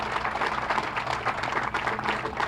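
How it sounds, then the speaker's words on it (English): Applause from a crowd at the groundbreaking ceremony for the new Saskatoon Central Library, honouring donors and champions: a steady, dense patter of many hands clapping at moderate volume, sustained throughout. "let's give all of the donors and champions a round of applause"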